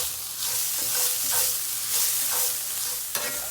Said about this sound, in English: We'll get the garlic and ginger in there that we made in the KitchenAid mixer